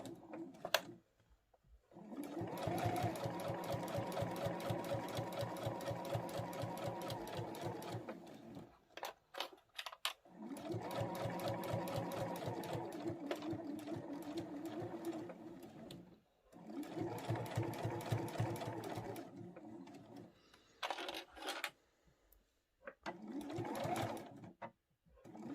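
Sewing machine stitching the lining of a crossbody pouch at a quarter inch, running in several steady bursts of rapid needle chatter separated by short pauses.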